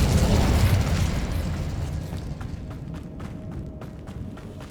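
An Incendio fire spell in Hogwarts Legacy opens with a loud, close fiery burst that rumbles and gradually dies down into crackling and light ticking sounds.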